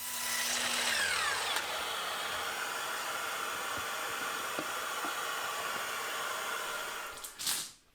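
A Festool Kapex miter saw crosscutting the end of a plywood board, its motor whining loudly up close and spinning down steadily over several seconds, with a final clunk as the head returns.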